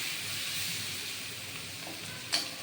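Prawn heads frying with onion and tomato in a pan give a steady, faint sizzling hiss throughout, with a brief sharper crackle near the end.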